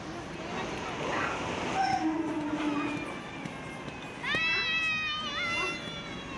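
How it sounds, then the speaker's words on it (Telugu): A passenger train pulls into a Mumbai station with a steady rumble, then a loud, high, drawn-out whistling squeal rings out near the platform as people talk nearby. "ఫైనల్లీ ట్రైన్ వచ్చేసింది, ఎక్కేసాము."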